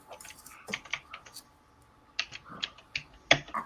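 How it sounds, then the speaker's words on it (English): Fast typing on a computer keyboard, with quick bursts of crisp key clicks separated by brief pauses, close and fairly quiet with no talking. "Man, you can type fast."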